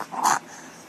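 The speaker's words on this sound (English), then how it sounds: "Are you growling?" A pet dog lets out a short, close growl under half a second long in a quiet room, then falls silent.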